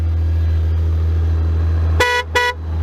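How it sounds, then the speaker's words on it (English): Two short honks from a 2022 BMW K1600GT motorcycle horn, bright and loud, cut through a steady low engine idle. "Let's give you a quick go on the horn."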